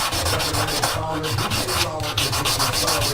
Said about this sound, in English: I'm up to the 320 grit, and I've just come up this side of the fret